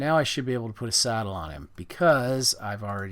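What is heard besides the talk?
No everyday noise stands out behind the speech.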